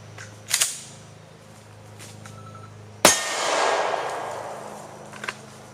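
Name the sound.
pistol slide being racked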